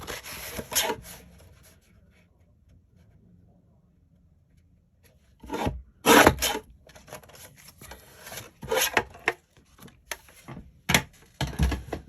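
A sheet of A5 pearlized card is trimmed by hand: a brief scraping rasp, a quiet pause, then a run of sharp, close cutting and rubbing strokes in uneven bursts, with no talking.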